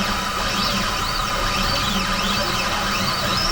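Sainsmart CNC 4040 Pro fitted with a 10W laser diode running, a dense steady mechanical hum with stepper motor whines rising and falling in repeated arcs as the gantry moves back and forth.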